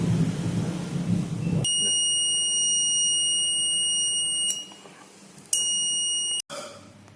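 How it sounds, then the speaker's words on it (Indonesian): An Arduino buzzer set off by a PIR motion sensor gives a loud, shrill continuous electronic tone that holds for about three seconds, stops, then sounds again briefly and cuts off abruptly, following a short stretch of low rumbling noise. "maka buzzer akan menyala."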